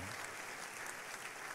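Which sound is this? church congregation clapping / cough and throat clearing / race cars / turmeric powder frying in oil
church congregation clapping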